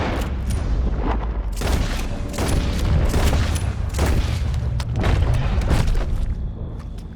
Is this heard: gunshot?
yes